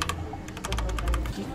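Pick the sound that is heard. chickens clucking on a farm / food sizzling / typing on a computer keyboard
typing on a computer keyboard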